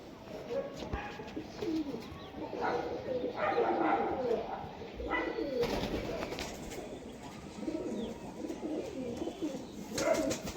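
Pigeons kept by a Krishnanagar fancier coo continuously in a low, layered chorus nearby, with some muffled speech and a few sharper sounds cutting in.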